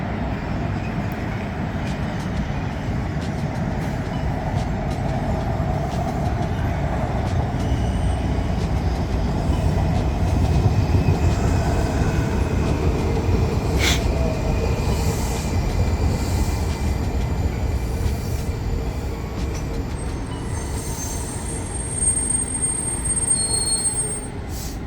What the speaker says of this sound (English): there's been 4 trains that have passed me by